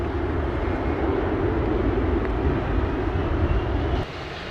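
A jet airliner's engines roar loudly and steadily at Sangster International Airport in Montego Bay, Jamaica, a broad sustained rumble that drops away abruptly near the end.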